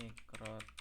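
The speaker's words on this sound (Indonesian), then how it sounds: "kita ketik" A few quick keystrokes clatter on a computer keyboard, close and brief, in a short burst of typing.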